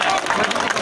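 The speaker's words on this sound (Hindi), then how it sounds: "अब तो तालियां बजाए" Audience applause at a live stage show of a Radha Krishna tableau, a dense steady wash of many hands clapping that fills the whole moment with crowd noise, loud and continuous.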